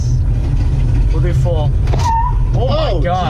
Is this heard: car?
yes